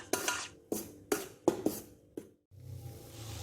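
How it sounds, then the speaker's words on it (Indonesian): Flour and seasoning mixed in a bowl, about six sharp clinks of a utensil against the bowl in an irregular rhythm, then a steady soft scraping churn, close and quiet. "Campurkan terlebih dahulu terigu dan bumbu tadi, aduk secara merata."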